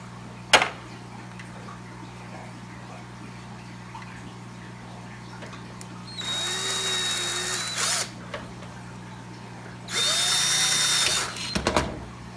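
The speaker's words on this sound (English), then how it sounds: "we need to drill a hole that's big enough for the tubing, but small enough to where it fits in there snug" A power drill bores a hole in the corner of a tank in two separate bursts of high whirring, each lasting over a second, with a sharp click at the start and quiet background hum between them.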